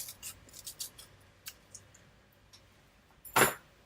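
Scissors cut through a ring-shaped band. A quick run of small, crisp snips is followed by a pause, then one louder, closer cut near the end, in an otherwise quiet room.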